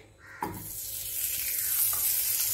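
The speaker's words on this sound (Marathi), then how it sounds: "त्यासाठी मी आता ह्यामध्ये तूप टाकत आहे।" Ghee going into a hot pan for zhunka paneer, a sudden burst of sizzling that swells into a steady bright hiss, close and loud with no talking.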